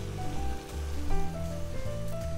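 Cheese tteokbokki sauce with melted butter simmering in a pan, giving a steady close-up sizzle and crackle with no talking.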